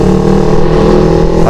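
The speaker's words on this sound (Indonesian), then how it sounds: "Setelah sudah panas, bisa kalian geber tipis-tipis ya." A Kawasaki Ninja 250fi or Yamaha YZF R25 motorcycle engine, warmed up, revving lightly at low and middle RPM, a loud, steady close-up drone with no talking.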